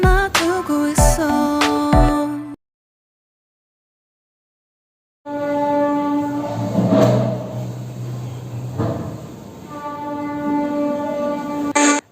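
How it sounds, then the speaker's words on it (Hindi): Trains rolling past near a railway station in Jhargram, a loud sustained rumble with a long horn blast, cut by a sudden gap of silence before the heavy passing noise and horn resume. "पास में ही है रेल स्टेशन, तो ट्रेन जाने की आवाज़ें आ रहे हैं।"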